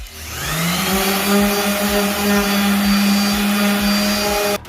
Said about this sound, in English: Just go up and down with the palm sander.